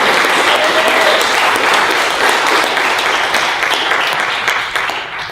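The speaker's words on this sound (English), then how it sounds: "So can we all give Dr. Uncle Underwood a round of applause, please?" Audience giving a round of applause at a university presidential lecture, loud sustained clapping from a large crowd that tapers off near the end.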